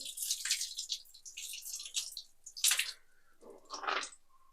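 Water gushing and splashing out of a removed RO water filter, irregular spurts and drips heard close up, fairly quiet, no speech.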